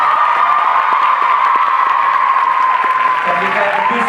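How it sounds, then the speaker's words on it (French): Cinema audience at a UGC Normandie screening applauds producer Nathalie, a steady dense wash of clapping and some cheers that holds throughout and runs under a voice. "et en plus c'est ma mère, alors on peut applaudir."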